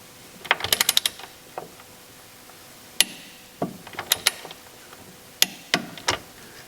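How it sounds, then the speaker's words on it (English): Ratchet work on a Porsche 911 rear swing arm joint bolt, sounding as quick clusters of sharp metallic clicks separated by short pauses, close and fairly loud in a quiet garage. "So we're just going to tighten our swing arm joint."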